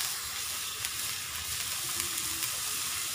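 A broccoli paratha filling with paste fries in a pan, giving a steady, close sizzle with a constant hiss and a few faint stirring clicks, no voices.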